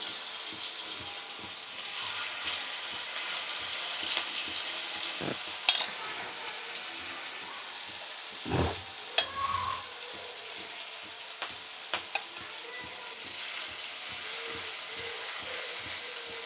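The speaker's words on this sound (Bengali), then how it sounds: "এটা একদম কম তেলে ভাজলে ভালো হয়" Sesame fritters frying over low heat in a little oil in a wok, a steady close sizzle broken by scattered scrapes and clicks of a spatula as the small fritters are added and turned, with no talk.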